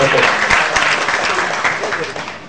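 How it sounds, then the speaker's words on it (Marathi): A lecture audience claps briefly, a dense burst of applause that stays fairly loud and then starts to fade within a couple of seconds. "कदाचित इंग्रजीमध्ये असल्यामुळे कमी टाळ्या बसल्या असेल"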